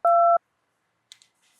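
A single short electronic keypad beep sounds as a phone number is dialed that turns out to be switched off, followed by a couple of faint clicks and near silence.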